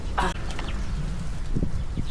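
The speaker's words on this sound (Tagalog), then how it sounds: "ayan yung mga manok natin" Chickens cluck softly close by, a few short low calls over a steady background rumble.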